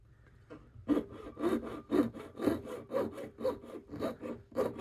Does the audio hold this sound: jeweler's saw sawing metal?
yes